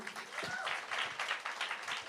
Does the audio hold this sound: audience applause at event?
yes